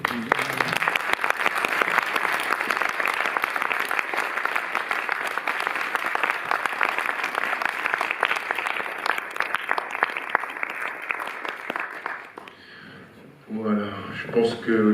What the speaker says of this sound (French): Olivier, on peut vous applaudir